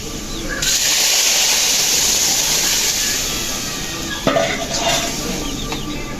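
Cooked okra and lentil dal goes into a pan of browned fried onions and is stirred, giving a loud close sizzle and hiss with scraping and clinking of a utensil against the pan, the frying sound continuing throughout.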